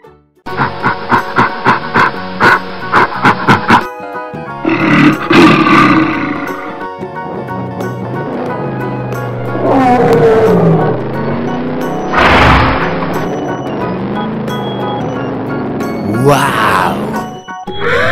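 A tiger roars loudly and up close in long, rough, rumbling bursts that follow a run of rapid rhythmic notes at the start, with deep groans rising and falling throughout.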